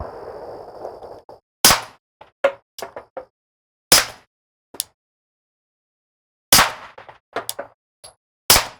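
Suppressed pistol fired with Shell Shock two-piece case ammunition, mixed supersonic and subsonic loads: sharp, loud cracks at irregular intervals, several in quick succession, with brief metallic clanks and quiet pauses between.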